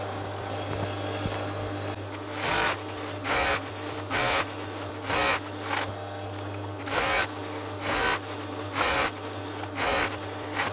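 An overlocker stitches velvet cushion fabric pieces in repeated short bursts of loud mechanical whirring, each a second or less, separated by brief pauses over a steady low hum.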